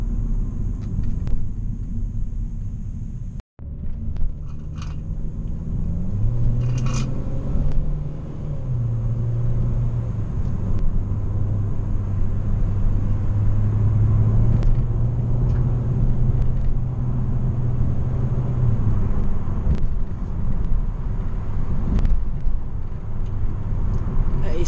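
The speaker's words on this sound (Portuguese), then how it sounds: "Esse é o barulho original do Veloster" A stock Hyundai Veloster 1.6 engine idles and revs gently through its original exhaust, a low steady rumble with a mild rise in pitch partway through, quiet and smooth.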